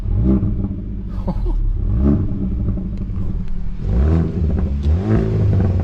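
A 2011 Subaru WRX engine revved repeatedly to around 4,000 rpm, loud and close, rising and falling in several throaty pulls with a rumbling idle between them.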